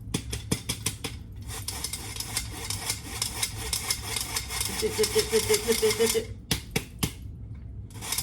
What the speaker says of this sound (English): Don't forget to tap down the sides of your thing, of your sifter